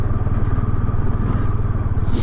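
A motorcycle rides over a rough, rocky off-road track between Nubra and Pangong in Ladakh, its engine a loud, steady close drone with some rattling.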